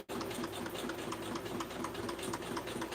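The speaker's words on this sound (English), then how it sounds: "I have to stitch this at like half the speed I usually would because it snaps the metallic thread" Sewing machine running steadily and slowly, stitching with metallic thread; a continuous close mechanical whir with a fine repeating stitch rhythm throughout, no talking.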